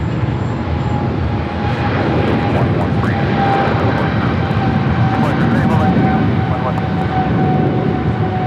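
A plane lands at Los Angeles airport with a loud, steady roar of engines that fills the whole stretch, heard close and continuous as tower radio talk runs over it.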